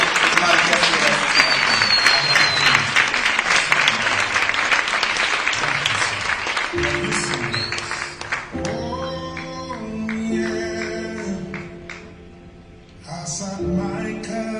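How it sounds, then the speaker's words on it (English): An audience at a political manifesto speech breaks into loud, sustained applause for several seconds, then the clapping fades as music and a voice take over. "Let's give him a huge round of applause as he prepares to share his manifesto."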